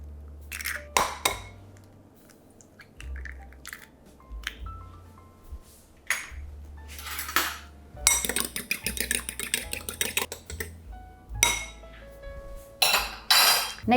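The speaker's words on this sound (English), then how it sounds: "I'm gonna need 2 eggs, which I'll just beat in a small bowl separately." Two eggs are beaten in a small bowl while making chicken corn soup, with bursts of quick clinking taps of utensil against the bowl, broken by pauses and a few louder ringing knocks.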